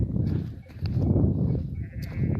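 Sheep bleat repeatedly outdoors while grazing across an open plain, several overlapping calls against a steady rumble of wind or field noise.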